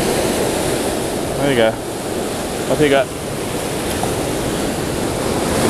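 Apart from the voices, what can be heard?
ocean surf waves breaking on the shore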